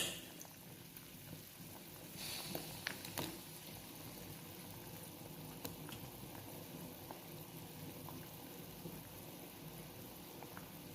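Faint, steady bubbling and soft popping of a prawn curry simmering in a pot over medium heat, with occasional small splutters over a low background.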